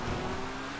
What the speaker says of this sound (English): You can hear the way the barrier smash seems to give him really high revs.